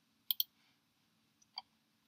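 Two quick mouse clicks close together, then a softer pair a second later, sharp and near in a quiet room while dimension lines are selected and dragged in Floorplanner floor-plan software.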